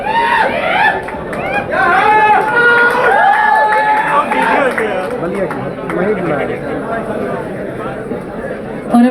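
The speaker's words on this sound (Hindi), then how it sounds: "एवरीवन प्लीज जोरदार तालियां हो जाए for our debut actress as well" A large crowd at a song-launch event in India cheers and shouts for a debut actress, a dense, continuous roar of excited voices and whoops that stays loud throughout.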